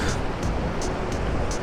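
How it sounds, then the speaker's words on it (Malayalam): Niagara Falls at night, a steady broad roar of plunging water filling the scene, loud and continuous, with faint repeated hissing bursts over the rumble. "ഇവിടുന്നാണ് വെള്ളം താഴോട്ട് ചാടിക്കൊണ്ടിരിക്കുന്നത്."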